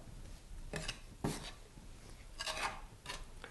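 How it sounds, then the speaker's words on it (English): A pastry scraper works flour into pasta dough on a counter, making a few short, faint scraping rubs at irregular intervals with quiet pauses between them. "here I've got my pastry scraper, and I'm going to start trying to work a little bit more flour in"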